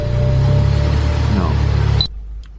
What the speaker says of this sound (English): so let's see if I get a long crank